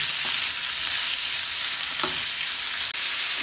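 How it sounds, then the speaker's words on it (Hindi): Chicken fries with onions in a pan, a loud, dense, unbroken sizzle heard up close with faint scrapes of stirring, and no voices. "चिकन को हम प्याज में फ्राई कर लेंगे।"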